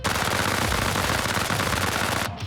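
Minigun firing in the video game Arma Reforger, a continuous rapid buzzing stream of shots that is loud and close, cutting off just before the end.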